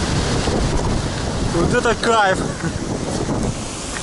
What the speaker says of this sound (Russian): первый раз на море во время шторма